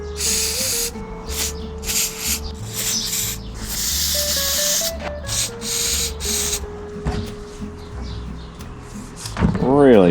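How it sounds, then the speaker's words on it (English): WD-40 squirted from an aerosol can down a worn motorcycle clutch cable on a Triumph Tigress under restoration: several short close hissing bursts of spray, with a voice talking over parts of it. "we're going to try and squirt some WD down it."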